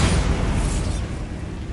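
A Bombarda blasting spell goes off in Hogwarts Legacy, a loud, rumbling boom that swells at once and trails into a dull, fading roar over a couple of seconds, with no one talking.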